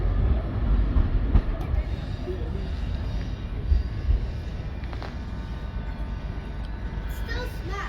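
Train idling at Shrewsbury station, a steady low rumble of a stopped multiple unit with faint clanks and brief station noises, heard at moderate distance under occasional quiet voices.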